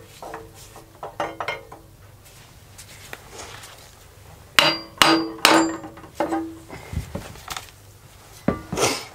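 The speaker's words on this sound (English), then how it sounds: "that's how you do it with a bit of a hammer and a crowbar. That's one flywheel off" Sharp metallic hammer blows ring out in irregular bursts, some clustered, with clanks and scraping of metal parts between strikes, close and loud, as a flywheel is knocked off a Flymo DM rotavator.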